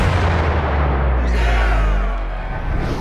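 Warship guns firing in a dramatic trailer scene, a heavy booming blast with a deep rumbling low end that swells and rolls on for about three seconds, loud and close, with no talk over it.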